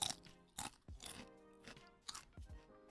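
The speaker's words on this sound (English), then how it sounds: "Hold on, listen to this crunch." Potato chips crunch up close in several sharp, bursting bites spaced about a second apart, followed by quieter chewing.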